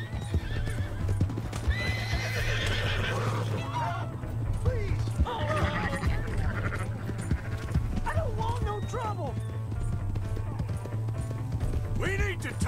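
Horse hooves clop rhythmically in Red Dead Redemption 2 alongside a whinny and scattered game sound effects, over a constant low hum and occasional voices.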